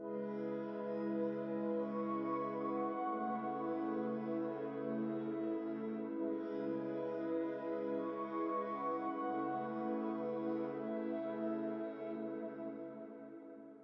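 Soft sustained synth pad following guitar chords with a light delay, in a vibey R&B-style beat, holding smooth layered tones steadily for the whole stretch before easing off slightly at the end.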